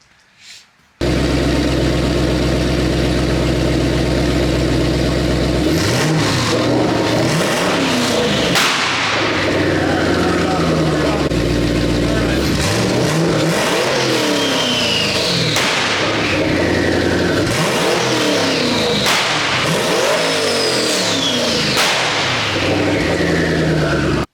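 A twin turbo Ford Mustang revs hard in repeated surges, its engine note sweeping up and down, while sharp cracks and pops burst out as it shoots flames, loud and close after a brief quiet start.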